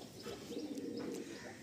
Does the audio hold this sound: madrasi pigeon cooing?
yes